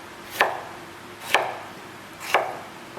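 A knife chops three times through potato sections on a cutting board, cutting them into Belgian fries. The strikes are crisp and evenly spaced, close by, with no voices.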